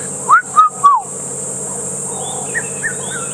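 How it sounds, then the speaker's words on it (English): Three clear whistled notes of a red-chested cuckoo in quick succession, rising then falling, followed by faint distant chirps over a quiet background at Djuma Game Reserve. "It's called a red-chested cuckoo"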